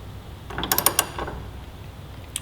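A wrench torques the axle bolt on a 2018–2023 Kawasaki Ninja 400 during a wheel spacer install, producing a quick burst of several close metallic ratchet clicks followed by quiet, then one faint click.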